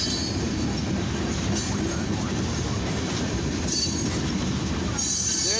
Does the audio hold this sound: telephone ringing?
no